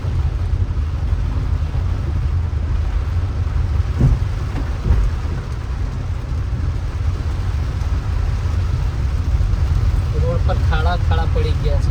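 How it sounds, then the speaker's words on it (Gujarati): Heavy monsoon rain with thunder on a road trip between towns, a dense, steady loud roar throughout with a deeper rumble near the start and a voice briefly heard toward the end. "વરસાદ એટલો પડે છે કે ખાડા દેખાતા જ નથી"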